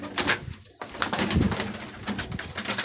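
Rooftop pigeons coo in soft, repeated low calls, a gentle burbling rhythm close by with faint outdoor background and no speech.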